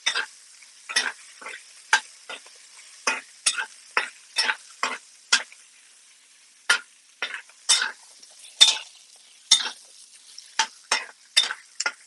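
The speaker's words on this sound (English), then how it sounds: "we're adding the pepper of the spring onion. We'll just saute it" Spring onion and pepper sautéing in a pan with ginger and garlic for soy sauce chicken, heard as repeated sharp stirring scrapes and bursts of sizzle at a steady rhythm, close and fairly loud, with no talking.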